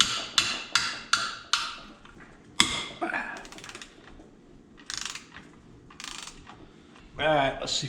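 Quick metallic clicks and rattles from a wrench working on skid plate bolts of a 2004 Suzuki LTZ250 ATV, a rapid run of sharp ticks at first, then scattered scraping clanks close by.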